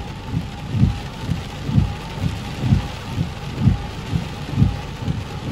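Heavy rain pours steadily in a violent April thunderstorm with gusting wind, while deep rumbles swell and fade every second or so beneath the downpour.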